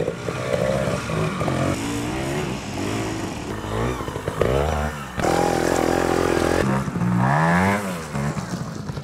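A 1978-model SWM twin-shock classic trials motorcycle with an Austrian Rotax engine runs close by, its exhaust buzzing and rising and falling through repeated revs and throttle blips, loud and continuous with no talking.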